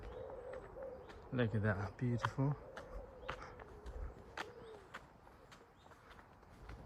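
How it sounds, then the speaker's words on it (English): Birds chirp and call outdoors in a wild rhododendron area amid a faint hum, with a brief stretch of someone speaking near the middle. "Hear the birds singing."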